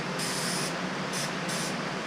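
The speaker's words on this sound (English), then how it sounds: "So we're going to spray this first." An aerosol spray can hisses steadily close up while coating a car interior trim piece laid face down, with a few brief pulses in the bright hiss over about two seconds and no talking.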